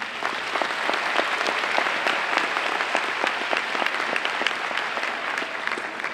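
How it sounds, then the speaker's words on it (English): Graduates and guests at an Edison Academy graduation ceremony break into sustained applause, a dense, even wash of many hands clapping with no pause for several seconds. "So we are all very, very proud of you. Give yourselves a round of applause."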